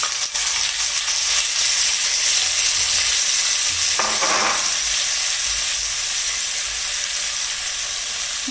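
Grated carrots for vegetable chops fry in a hot pan, giving a loud, steady sizzle with a brief scraping stir partway through, close up and without speech.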